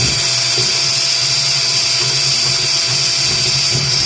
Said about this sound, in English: Re-drill this out a little more